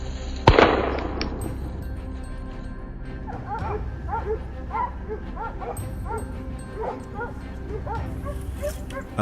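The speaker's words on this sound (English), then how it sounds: "Amid the reeds, the barking of hunting dogs signaled the presence of a wild boar." Hunting dogs barking in reed beds during a wild boar hunt, a sharp bang at the start followed by a rapid series of yips and barks, moderately distant, over a steady background rumble.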